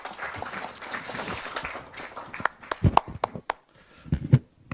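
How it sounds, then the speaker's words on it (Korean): Applause welcoming the party leader at the Democratic Party's carbon neutrality committee launch, a soft murmur of clapping that thins out into scattered, sharp individual claps near the microphone. "큰 박수로 맞아주시기 바랍니다"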